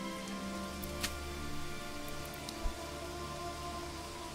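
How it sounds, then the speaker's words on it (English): Rain falls in the medieval city-building game Manor Lords, a steady even patter of drops with a couple of slightly louder taps, no speech over it. "Well, now it's raining."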